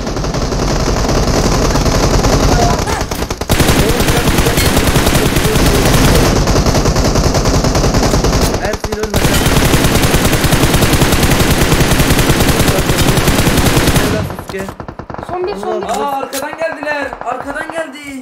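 Long bursts of rapid automatic gunfire in the shooting game PUBG Mobile, loud and close, with brief pauses between bursts, then fading into excited talking near the end.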